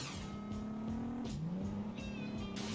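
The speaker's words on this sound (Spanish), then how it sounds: "Creo que justo hay un coche por ahí." Car engine from the video game Driver: Parallel Lines set in New York, a steady revving drone with a slight pitch rise, heard faintly under other game sounds for a few seconds.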